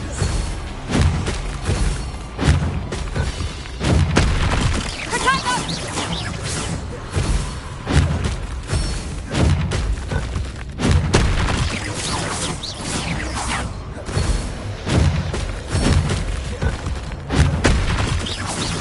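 Booming spell explosions from Confringo and Bombarda blasts in Hogwarts Legacy on PS5, a dense string of loud thuds, crashes and whooshes following one another across the fight with no letup.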